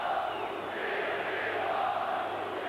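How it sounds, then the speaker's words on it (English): A football stadium crowd at a Verona versus Milan Serie A match howls and roars in a steady, dense wash of voices that holds for the whole stretch, with no clear commentary on top. "the crowd howling for the game to be stopped"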